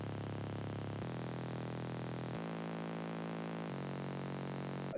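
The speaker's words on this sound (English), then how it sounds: "there's an extra high frequency bass." A buzzy, high-register bass layer from an EDM trap beat holds dense, harmonically rich tones. It shifts pitch in four long steady segments at an even, constant loudness, with no voices.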